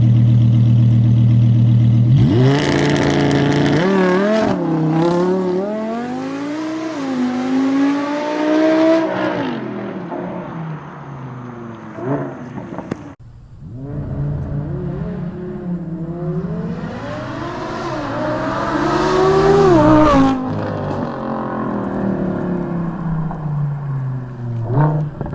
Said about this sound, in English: the R8's V10 soundtrack is always a highlight